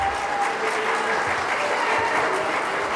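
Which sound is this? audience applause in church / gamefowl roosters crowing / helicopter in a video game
audience applause in church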